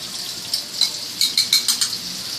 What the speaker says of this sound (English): We're going to let this simmer down, saute this a little bit.